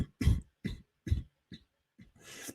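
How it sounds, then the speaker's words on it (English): A man coughs several times in quick, close bursts, then clears his throat with a raspy breath. "So your boy started coughing a little bit."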